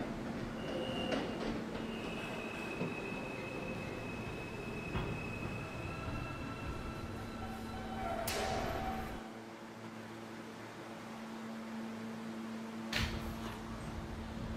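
An R160A E train runs on the New York subway with a continuous rolling rumble and a faint motor whine. Sharp metallic bangs and a brief whoosh cut in partway through, then it settles into a quieter hum.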